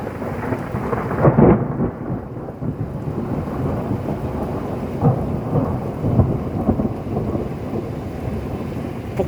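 Thunder from a thunderstorm over Pertuis rolls in as a loud, sustained low rumble with surges, rain and wind noise continuous underneath, no voices.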